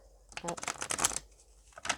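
A tarot deck being shuffled by hand, a close, brisk riffle of cards in a couple of quick bursts with a short pause between them.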